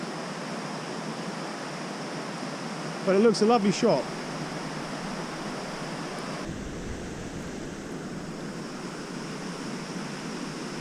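River water flowing steadily on Dartmoor between Shipley Bridge and the Avon Dam, a broad continuous rush heard close, with a short spoken remark partway through.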